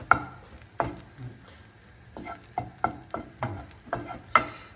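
Salted egg rice is stirred and mixed in a pan over a low sizzle, with about a dozen distinct spatula scrapes and knocks arriving at an uneven rhythm close by.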